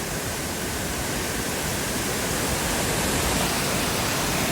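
Roaring waterfall at Amboli in the Konkan during the monsoon, a dense, steady rush of falling water filling the whole clip at constant loudness with no voices.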